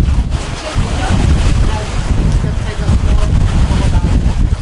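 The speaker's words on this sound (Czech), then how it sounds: "tady je takovej vítr, že mám normálně strach o dron" Strong wind at a crocodile farm in a Cambodian floating village, loud continuous buffeting and roaring against the microphone, with someone talking underneath.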